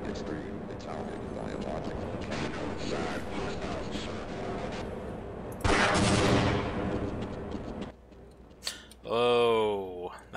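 Gunfire aimed at barnacles in Half-Life, loud rapid bursts of shots filling the first half with a harsh louder blast near six seconds, then a quieter stretch and a warbling creature-like cry at the end.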